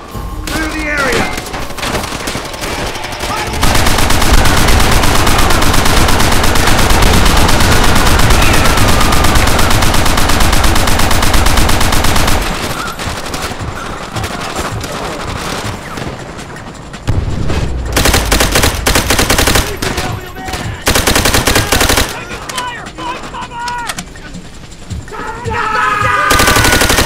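Machine gun and rifle fire in Call of Duty: World at War: a long, loud unbroken burst of automatic fire, then shorter volleys and scattered shots, with shouted voices between the bursts.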